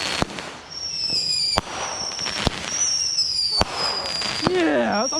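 Fourth of July fireworks going off nearby, a series of about six sharp loud bangs with crackling and whistling tails between them, while voices sound in the background.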